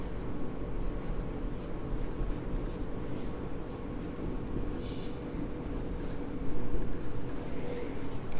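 Marker or chalk writing out chemistry examples on a classroom board, a soft continuous scratchy stroking with brief pauses over a steady low room hum, no speech.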